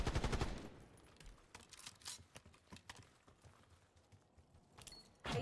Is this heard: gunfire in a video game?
yes